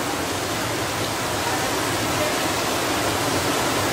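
The Pinaisara waterfall pours in a loud, steady rush of white noise, close by and unbroken, with no speech over it.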